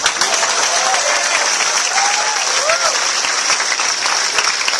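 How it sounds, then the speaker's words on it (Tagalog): Sustained, dense applause from a large crowd at a gathering honoring a former taho vendor, steady and loud for several seconds with faint voices and cheers underneath. "Milyong palakpak para sa ating taho, Beto!"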